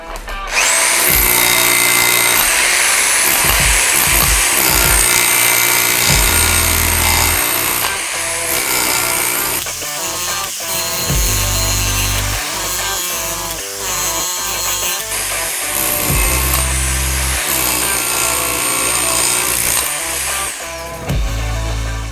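SDS rotary hammer, barrel-type or straight model, drilling with a bit fitted, running loud and steady close by for most of the stretch with brief pauses and changes in pitch and load.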